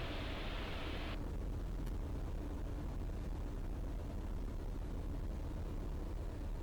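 Eurofox microlight aircraft engine in flight, a broad steady drone that drops in pitch and loudness as the throttle is closed, leaving a continuous lower rumble and wind rush.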